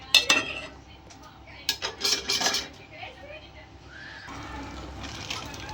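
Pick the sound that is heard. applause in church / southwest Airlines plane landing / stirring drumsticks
stirring drumsticks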